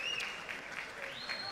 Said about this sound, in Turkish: Oylamadan sonra bir daha alkışlayalım Bülent Hanım'ı.